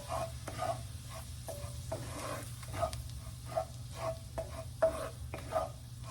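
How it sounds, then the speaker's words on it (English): Flour roux with onions being stirred in a pan, an all-purpose flour and onion mixture cooking over a low sizzle, with a soft rhythmic scraping stroke repeating roughly every half second; no voices. "We're making a roux, just like you would gravy with these onions."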